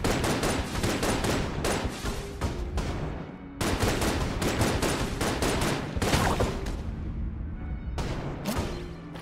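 Shock-bullet gunfire in the game Enter the Gungeon, a dense, loud, continuous barrage of rapid shots and blasts with only momentary breaks.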